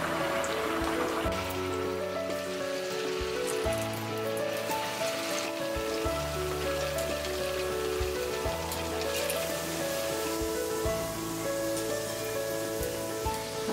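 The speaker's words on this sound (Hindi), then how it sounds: "कढ़ाई में हमने तेल गरम कर लिया है, अब हम इसे डीप फ्राई करेंगे।" Sabudana aloo tikki deep-fry in hot oil in a kadhai, giving a steady bubbling crackle like light rain with a low hum underneath.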